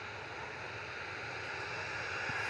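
Aircraft passing overhead near Manchester Airport, a steady broadband engine roar, fairly faint and even for a few seconds.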